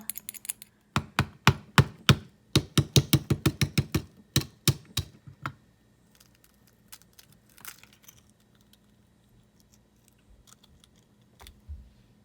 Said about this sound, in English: you just want to mix it up a little bit with the whisk so that it's ready to go